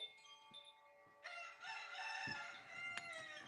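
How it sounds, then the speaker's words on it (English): A rooster crows one long, drawn-out, fairly faint call that starts after a short pause and carries on to the end, with a few soft knocks before it. "Crazy chicken."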